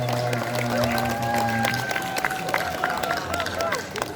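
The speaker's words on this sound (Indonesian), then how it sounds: "Beri tepuk tangan yang meriah." An audience welcoming guest speakers at a school talk breaks into a brief round of clapping and crowd noise, moderately loud, with voices mixed in underneath.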